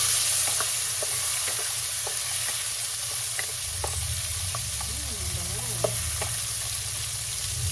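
Tomatoes hitting browned garlic frying in a pan, a continuous loud sizzle with stirring sounds and light utensil taps, no voices.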